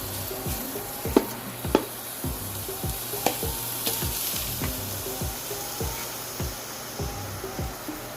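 One kilo of ground beef sizzles and fries steadily in a pan for lasagna, with a constant hiss broken by regular scraping stirs and a few sharper clicks from the utensil.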